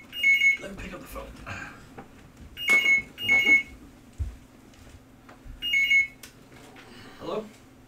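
A telephone rings inside the game Dear Esther, sounding as several short bright ringing bursts spread across the stretch, with someone talking around and between the rings.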